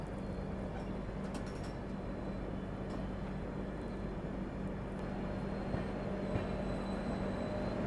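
Aboard the Toofan Goa Superfast from Delhi toward Belagavi, a faint, even hum and low mechanical drone fill the coach, steady and unbroken, with no voices.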